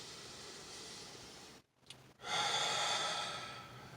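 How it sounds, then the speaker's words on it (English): A slow, deep breath drawn in and let out, close and soft, a hissing inhale followed by a brief pause and a long airy exhale, with no talk. "Take a deep breath."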